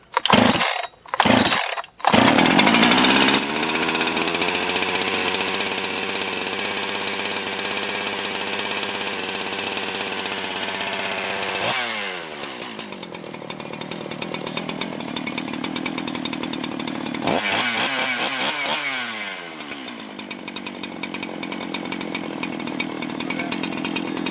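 A Jonsered 2071 chainsaw is pull-started after a few quick tugs, then runs loud and close at a steady idle, revving up twice with rising and falling engine pitch before settling again.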